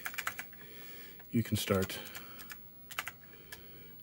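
Keystrokes on an Apple II computer keyboard, clicking in quick bursts with a few louder isolated taps near the mic, while someone speaks briefly over them.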